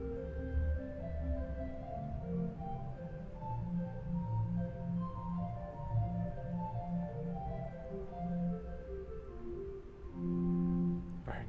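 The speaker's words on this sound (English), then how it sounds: "Rohrflöte by itself sounds like this." The Rohrflöte stop played alone on the chancel pipe organ at National City Christian Church in Washington DC, with soft, sustained flute-like notes moving through a gentle melodic line, quiet and roomy.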